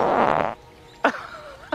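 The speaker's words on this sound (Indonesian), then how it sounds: "ternyata itu suara kentut" A fart in a survival drama scene, heard as two short, sharp bursts, the first near one second and a smaller one near the end, following a louder stretch of other sound.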